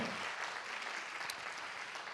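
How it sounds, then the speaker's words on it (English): An audience gives a steady round of applause for Masters graduates at a postgraduate research week event, dense even clapping that sounds faint and distant, with no voices over it. "let's give a round of applause to all the Masters VYT people"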